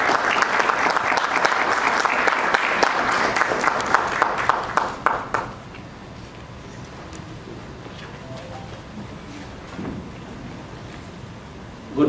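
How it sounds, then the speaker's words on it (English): Delegates at the second day of an HR management summit break into loud, dense applause that swells for about five seconds, then quickly thins to scattered claps and room murmur. "huge round of applause for Mr."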